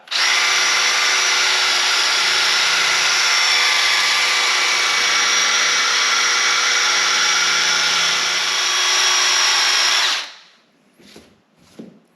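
Cordless drill running at high speed to dry-sand a headlight lens with 3000-grit abrasive, a loud steady whine that holds for about ten seconds, then cuts off, followed by a few faint brief sounds.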